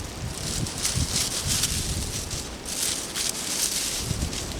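Wind gusting across a garden in late March, a steady broad rush with leaves rustling and faint rattling, swelling and easing slightly, heard close to the microphone with no voices.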